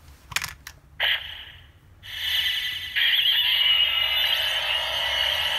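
Ultraman Tiga Dark Black Spark Lence replica, a Premium Bandai transformation toy, sounds off with a few sharp clicks and then a bright, sustained electronic effect that swells and holds loudly to the end.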